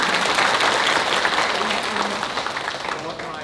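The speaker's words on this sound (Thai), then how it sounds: "ขอเสียงปรบมือให้อาจารย์อีกครั้งหนึ่งค่ะ" An audience at an OTOP entrepreneur training seminar in Nakhon Phanom gives the lecturer a round of applause, a thick, continuous clatter of many hands that tapers off gradually, with a few voices mixed in.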